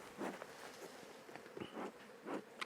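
Honey bees buzz around an opened hive being smoked during a winter inspection, with several short, separate buzzes flying close past, faint and intermittent against quiet air.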